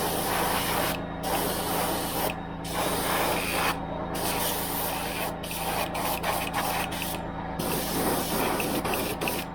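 A compressor-driven airbrush sprays yellow paint onto a fishing lure, a steady loud hiss that runs almost unbroken with a few brief pauses, and no voices.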